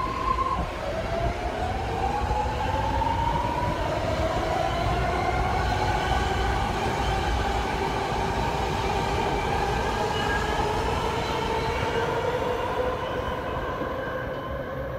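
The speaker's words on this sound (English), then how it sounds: "there goes the train" A train rumbles steadily past at close range, wheels grinding and squealing on the rails throughout.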